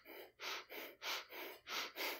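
Rapid, shallow gasping breaths repeat in a quick, even rhythm of about six sharp inhales in two seconds, close and loud, with no voice over them.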